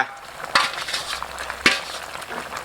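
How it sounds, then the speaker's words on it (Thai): Catfish curry with noni leaves being stirred in a cooking pot, a soft simmering bubble underneath and two sharp scraping clinks of the spoon against the pot, with no talking. "แม่คนให้ใบยอจม"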